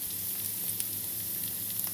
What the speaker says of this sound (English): I flipped over a potato here, and yeah, they're frying nicely.